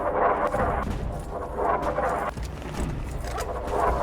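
Missiles fire in Fallout 3 as a dense, continuous roar of launches and blasts, with loud rumbling bursts swelling roughly every second or two and no pauses between them.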